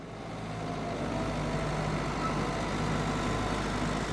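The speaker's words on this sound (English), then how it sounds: "Yes, that's the sound of a tractor." Tractor engine rumbling steadily, a low continuous heavy drone that swells slightly at the start and then holds even, heard alone at moderate distance.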